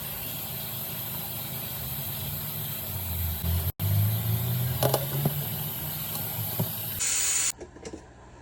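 Rashta noodles steam with a steady broad hiss that rises briefly near the middle, then stops abruptly, leaving a few faint clinks and rustles close by.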